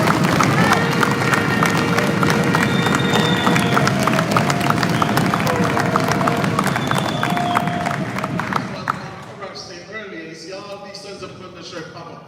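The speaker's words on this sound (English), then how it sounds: "Just want to give a round of applause for Sons of Thunder." A congregation applauds for a group, dense sustained clapping mixed with cheering and crowd noise, loud and close, then thinning out into scattered claps and voices near the end.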